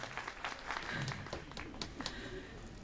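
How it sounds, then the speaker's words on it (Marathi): A seminar audience in Pune claps together, a soft, dense patter of many hands heard at a distance throughout. "बऱ्याचशा लोकांनी टाळ्या वाजवल्यात"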